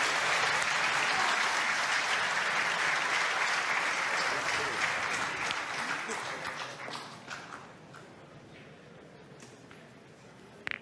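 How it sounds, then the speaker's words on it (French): Spectators applaud from a neighbouring pétanque court after a surprising playoff game, a steady wash of clapping that fades toward the end, heard from a short distance away. "les applaudissements que vous entendez sur le terrain d'à côté viennent d'une partie de barrage surprenante aussi"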